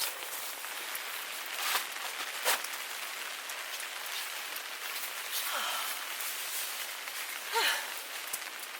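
Rain falls steadily outdoors at a campsite, a dense, even hiss of drops on surfaces with a few louder taps standing out nearby.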